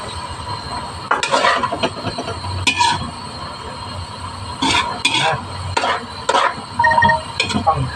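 Vegetables with carrots are stir-fried in a pan, with repeated bursts of scraping and clattering of the utensil against the pan over a faint background sizzle.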